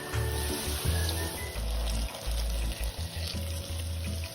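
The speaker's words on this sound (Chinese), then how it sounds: "相同的做法，重复油炸至完成。" Banana pancakes deep-frying in hot oil, a steady bubbling sizzle close by, with low thumping bursts and watery splashing layered underneath, no talking.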